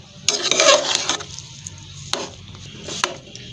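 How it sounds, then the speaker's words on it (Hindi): Spoon stirring a mashed potato kebab mixture in a pan with the stove switched off: a burst of scraping and squishing at the start, then a few sharp scrapes against the pan, close and fairly loud. "अब हम इसको करते हैं मिक्स।"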